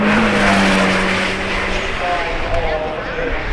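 The 6.5 litre naturally aspirated Cosworth V12 of an Aston Martin Valhalla roars as it accelerates up the hill at Goodwood Festival of Speed, its pitch sweeping then fading slightly, under a commentator's voice.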